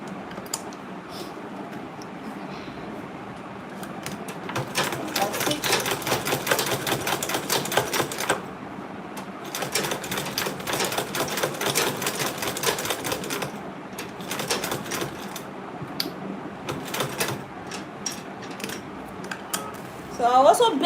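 A sewing machine stitching a zipper onto an Ankara fabric tote bag, running in several rapid rattling bursts separated by short pauses, close and fairly loud.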